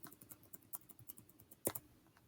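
Computer keyboard keys, the arrow keys, tapped in a quick irregular series of light plastic clicks while nudging a layered flag design into alignment, close and fairly quiet, with one sharper double click near the end and no talking.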